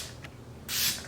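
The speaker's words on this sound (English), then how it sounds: "Spray it on my face as well." A short hiss of tanning spray being misted onto the face, a brief faint puff followed by a louder, steadier spritz of about a quarter second in a quiet room.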